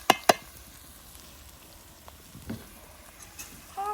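Chicken frying with onions and garlic in a pan for Mangalore-Udupi style chicken sukka: a soft, steady sizzle, with a couple of sharp utensil clinks at the start and faint stirring scrapes near the end.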